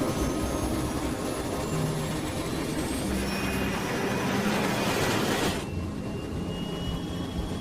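Concorde jet engines roaring in an air disaster reenactment, a loud steady broadband rumble and hiss that holds for several seconds before easing off slightly near the end.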